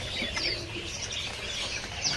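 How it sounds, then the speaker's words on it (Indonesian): Petit kembang birds in a bird shop kiosk chirp and twitter in a busy, continuous overlapping chorus, close and fairly loud. "Di kios ini ada burung petit kembang ya."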